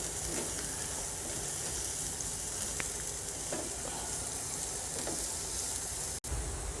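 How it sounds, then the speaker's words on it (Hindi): Onions frying in a pan for an omelette, a steady close sizzle with faint crackles throughout, no talking. "ये मैं अब इसमें प्याज डालूँगी और थोड़ा सा बस इन्हें फ्राई करूँगी"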